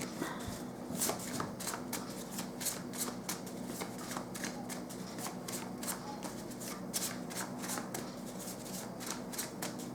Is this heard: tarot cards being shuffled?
yes